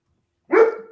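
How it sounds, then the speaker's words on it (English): A dog gives one loud, sharp bark that breaks a moment of silence and then fades quickly. "Somebody get your dog."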